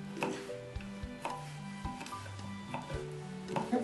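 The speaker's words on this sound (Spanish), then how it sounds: "Primero en rodajas y luego en cuadritos." Garlic cloves are sliced and then cubed, producing faint, quick knife taps on a cutting board in an uneven rhythm.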